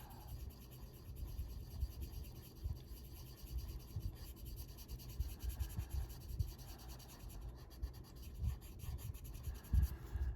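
A colorless blender pencil scratches across a greyscale coloring page of flowers and leaves, giving a steady close-up rasping and rubbing with uneven strokes for about ten seconds, with no talking.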